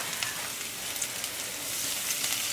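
Onions and flour brown in a skillet with a soft, steady sizzle and faint crackling, close and fairly quiet with no voices.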